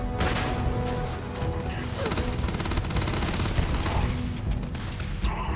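Rapid gunfire in Starfield as a weapon empties its ammo, a dense, loud fusillade of overlapping shots with clattering impacts running throughout, and a voice briefly audible underneath.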